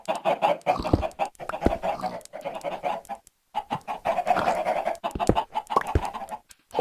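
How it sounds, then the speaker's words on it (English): Chickens cluck repeatedly in a Minecraft game, a steady run of clucks and squawks with short sharp accents, close and fairly loud, with a brief gap partway through and no talking. "Them chickens will be right through."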